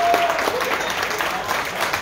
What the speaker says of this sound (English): Give yourself a big round of applause this evening.